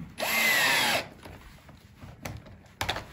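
Power drill driving screws tight on HILO Cubic acoustic furniture: a single loud, close whir lasting under a second with rising pitch, followed by quieter clicks and knocks of handling.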